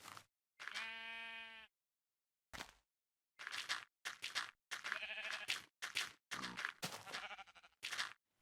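Sheep bleat in the Minecraft Pocket Edition game, with one long, loud, strongly harmonic bleat, then a run of shorter, clipped bleats and game noises spaced across the stretch, all in the near field with no talking.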